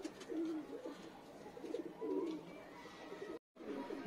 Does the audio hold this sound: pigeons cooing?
yes